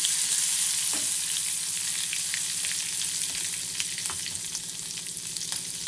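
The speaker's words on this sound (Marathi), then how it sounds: "हिरवी मिरची थोडीशी फ्राय होऊ द्या" Green chilies frying with cumin seeds in hot oil in a pan, giving a steady close sizzle with faint crackles and a few soft pops throughout.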